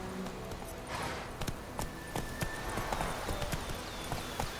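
Roach the horse trots along in The Witcher 3: Wild Hunt, hooves clip-clopping in a quick, regular rhythm close by, with faint tack jingle and ambient game sounds underneath.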